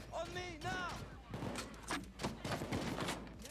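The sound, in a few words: LMG machine gun firing in Payday 2 video game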